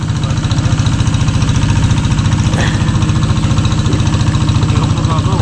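A boat engine runs steadily close by, a loud, continuous rhythmic chugging that fills the whole stretch without pause.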